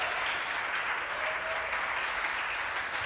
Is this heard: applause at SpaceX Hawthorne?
yes